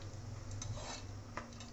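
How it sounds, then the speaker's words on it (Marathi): Peanuts, dal and garlic roast in oil for Kolhapuri bhadang chivda, giving a faint soft sizzle with a few light stirring scrapes and clinks of a spoon against the pan. "असं छान परतवून घ्यायचं आपण शेंगदाणे पण आपले छान गुलाबी झाले पाहिजे।"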